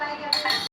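Metal utensil clinking and scraping against a pan as fish curry is stirred, a short close burst of bright clinks with a faint voice underneath, then a sudden cutoff.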